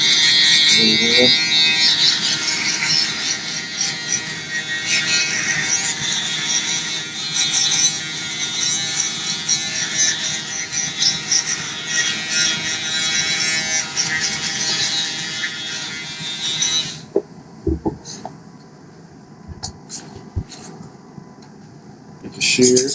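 Handheld electric shaver buzzing steadily while cleaning up a barber fade, with talk running over it; the buzz cuts out near the end, leaving scattered small handling clicks.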